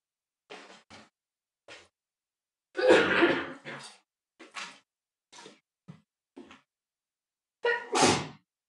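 A sharp sneeze bursts out amid scattered quiet sniffs and small throat noises in a quiet room, with a second loud burst near the end.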